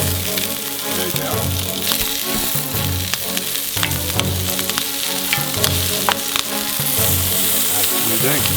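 Pork chops frying in butter in a pan give a loud, continuous close sizzle and crackle with scattered pops, while a voice talks faintly over it.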